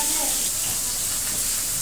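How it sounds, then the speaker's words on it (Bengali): Rohu fish pieces frying in oil make a dense, even sizzling hiss, close and fairly loud, with no pause over the short stretch. "রুই মাছ ভাজা হচ্ছে"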